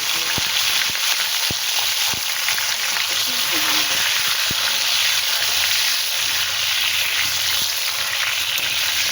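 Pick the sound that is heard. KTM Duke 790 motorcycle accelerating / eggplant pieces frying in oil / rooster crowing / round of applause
eggplant pieces frying in oil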